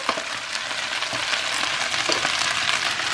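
Chopped mushrooms and browned meat sizzle and fry steadily in a pan, a dense continuous crackle with occasional stirring scrapes, close and unbroken throughout.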